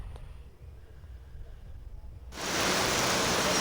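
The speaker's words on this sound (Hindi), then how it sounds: "और उसके बाद देखिए कितनी ज़्यादा बारिश होने लगी थी।" Heavy rain falls outdoors, beginning as a low rumbling background and then surging abruptly into a loud, dense, steady hiss that fills the rest of the clip.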